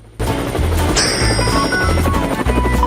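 A cartoon helicopter flies over a desert island during a rescue, its rotor thumping in a steady loud beat with a high tone coming in partway through. Background music plays along with it.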